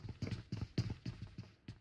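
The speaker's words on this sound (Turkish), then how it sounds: "Bakın ayak sesini duydum." Footsteps in the video game PUBG, a quiet, regular run of about seven soft thudding steps at an even walking rhythm, heard alone.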